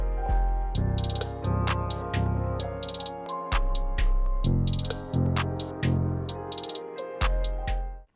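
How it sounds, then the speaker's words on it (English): Hip-hop beat with a second 808 bass layered in: booming sustained low bass notes hit in a steady rhythm under crisp drum hits and a bright melodic sample, loud and upfront with no talking. "With the 808s, I added in another 808, which is gonna sound like this."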